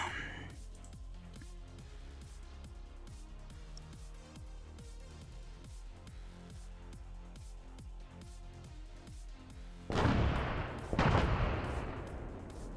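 Artillery fire support in Arma 3 starts with a long series of rapid, dull distant thuds, then two loud, close booming blasts near the end whose roar trails off.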